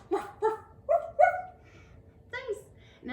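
Several children's voices imitate a dog barking during a kids' yoga session, a series of short bark-like yaps and woofs in quick bursts, fairly close and clear.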